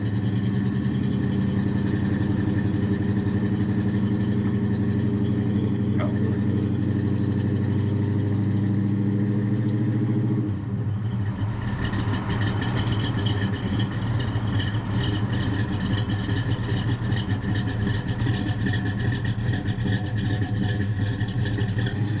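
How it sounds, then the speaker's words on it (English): A restored 1971 Chevrolet Chevelle with a 402 big-block V8 and M22 four-speed manual runs at a steady, rumbling idle, then turns louder and rougher about halfway through, heard close up without voices. "Today we are in my restored 1971 Chevrolet Chevelle with a 402 big block and a M22 4-speed manual transmission."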